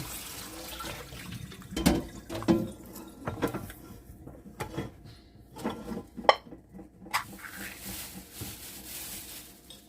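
Canned black beans rinsed under a running tap in a strainer for taco soup, water splashing with clanks of metal and dishes, several louder knocks standing out against a steady trickle.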